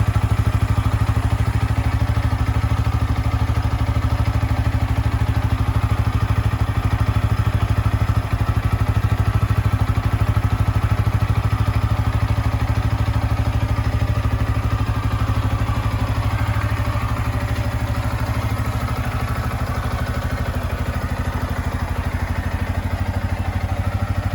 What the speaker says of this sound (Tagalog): Hindi muna ako nagpalit ng mga aftermarket na muffler. So ini-enjoy ko pa yung kanyang stock.